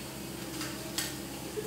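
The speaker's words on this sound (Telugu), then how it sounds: "ఇప్పుడు నేను నూనె వేడెక్కిందండి. పోపు గింజలు యాడ్ చేస్తున్నాను." Mustard and other tempering seeds crackle and sizzle in hot oil for a Telugu moringa-leaf pulihora, a steady close frying hiss with a few sharper pops and a brief stir.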